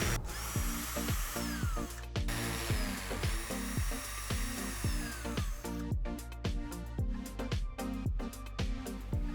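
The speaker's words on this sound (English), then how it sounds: "Use your concrete drill bit to drill your holes." A power drill with a concrete drill bit whirs steadily in short repeated bursts, loud and close, with a steady rhythmic churn as it bores holes into a wall.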